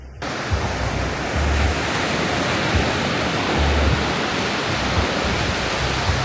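Sea waves wash onto the coast at Canggu, Bali, as a steady, full roar of surf with a low wind rumble underneath and no voices.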